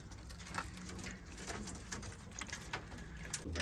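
Soft racing pigeon cooing amid a busy loft ambience as birds return from a young bird race, with rustling, scattered chirps and low murmuring sounds throughout.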